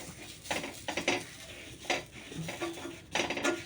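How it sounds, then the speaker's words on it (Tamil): A flat dosa griddle being rubbed down with a little oil gives soft, scraping strokes in an irregular rhythm, close by and fairly quiet, with a faint sizzle underneath. "கொஞ்சமாக எண்ணெய் ஊற்றிட்டு அதுக்கப்புறமா நல்லா தேய்ச்சி விடணும்."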